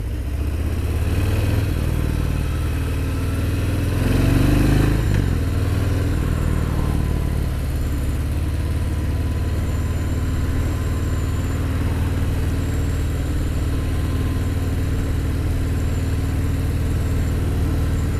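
Harley-Davidson Fat Bob 114 motorcycle on a demo ride, its big V-twin engine rumbling steadily with a low, continuous drone, swelling briefly louder mid-run before settling back to an even cruising throb.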